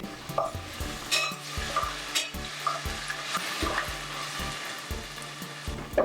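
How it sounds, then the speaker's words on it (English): A spoon stirs pre-soaked rice with pepper and green onion in a pot in repeated, rhythmic scrapes and knocks over a soft, continuous sizzle, close and fairly loud. "stir continuously for about 2 minutes"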